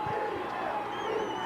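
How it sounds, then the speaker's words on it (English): Football crowd in the stands at a 1988 Brooklyn Mariners versus Pueblo Crusaders national semifinal, chanting "defense" in a rhythmic roar, moderately distant, with a few voices rising out of the mass. "Crowd is chanting defense right now."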